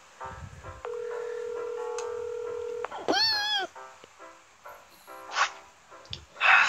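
Telephone keypad dialing: a long steady dial tone, then a quick run of warbling button tones, followed by a brief voice and a few scattered noises, fairly close and clear.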